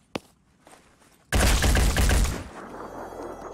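Gunfire in the Phoenix Point video game: a quiet sharp shot, then a sudden loud burst of rapid fire about a second long that trails off into a lingering rumble.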